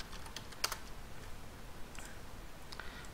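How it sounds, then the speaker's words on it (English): Quick, faint keystrokes on a computer keyboard, a short burst of light clicks with one sharper tap, typed alone with no talk over them. "so I'm going to type here administrators"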